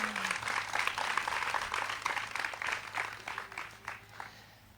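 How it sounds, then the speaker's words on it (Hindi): An audience at a Hindi poetry gathering claps together in a busy, crackling burst that gradually thins out and fades, moderately loud and heard from within the crowd. "एक बार जोरदार ताली बजाए आप लोग"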